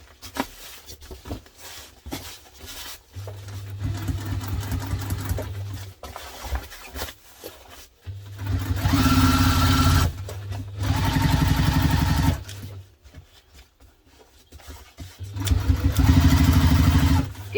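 A sewing machine stitches through a bunched-up duffle bag, its motor whirring in three sustained bursts separated by short pauses, fairly close and steady.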